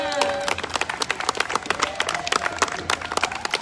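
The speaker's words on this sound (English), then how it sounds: "Can we give him a bigger round of applause?" Outdoor crowd applause at a gathering at the Portland, Oregon Justice Center, scattered sharp claps from a modest group of people with a voice and other crowd noise underneath.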